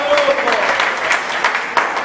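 A crowd at a poetry evening claps in a brief, loud burst of applause, with a voice briefly audible at the start amid the clapping.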